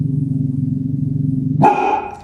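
A single sharp bark cuts in late over a steady low droning hum, close and loud, then rings off.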